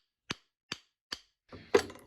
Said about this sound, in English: if I hit it with the back of the brush